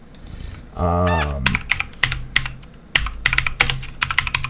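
Keys clack on a computer keyboard in quick, uneven bursts of sharp taps, close and fairly loud, with a short low voice-like hum near the start.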